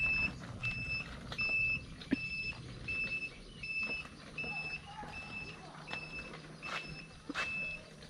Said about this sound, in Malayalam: റിവേഴ്സ് സ്വിച്ച് ഇട്ടിട്ട് റിവേഴ്സ് ഓൺ റെഡിയാണ് വണ്ടി മൊത്തം റിവേഴ്സാണ് പോകുന്നത്